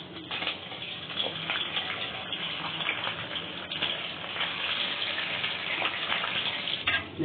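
Stuffed mumbar frying in hot oil gives a steady, close crackling sizzle with dense popping spatter that runs unbroken throughout, with no talk.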